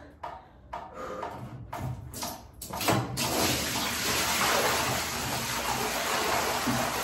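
Water gushes steadily from a tap after a few short splashes and knocks, becoming a loud, continuous broadband rush that fills the rest of the clip.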